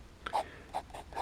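A Kaweco Sport fountain pen scratches across paper in a few short, close strokes, quiet and crisp with brief pauses between them.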